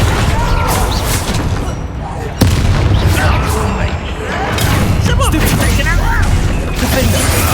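Spell blasts boom and crash in the Hogwarts Legacy video game during a fight, heavy explosive impacts layered over dense battle noise and a voice casting spells aloud.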